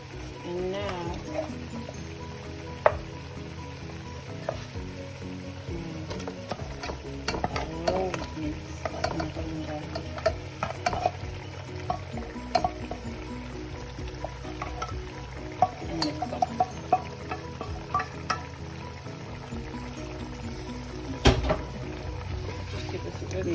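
Ogbono soup with bitterleaf being stirred in a pot, a steady soft scraping and sloshing with scattered small clicks of the spoon against the pot, continuous and close over a low background hum.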